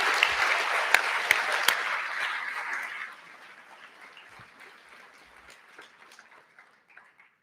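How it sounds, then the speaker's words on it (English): Audience applause at the Jessup international moot court championship rounds: a burst of enthusiastic clapping with a few sharp claps, which fades after about three seconds to a scattered patter that trails off. "please give a big round of applause for the sake of posterity to Larissa Rebello and Tarazi Mohammed Sheik"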